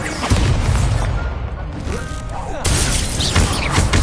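In Hogwarts Legacy, an Incendio fire spell goes off, a loud burst of crackling flame and booming impact noise that fills the whole moment, with a second surge of fiery crackle partway through.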